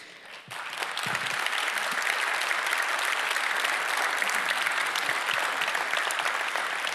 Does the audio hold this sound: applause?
yes